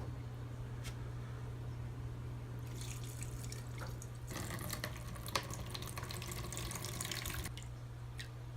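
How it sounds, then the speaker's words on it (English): Water rinsing sprouts in a jar, a steady close pour and splash with a low hum beneath, growing louder and busier in the middle before easing off, no talking. "We'll kind of wash those a little bit back as we rinse them out once more."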